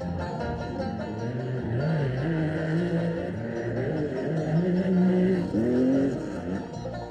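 Rally cars race around the Nîmes arena through chicanes in a 1985 rally sprint, engines revving loudly and continuously with rising and falling pitch as they accelerate and brake, heard close and steady throughout.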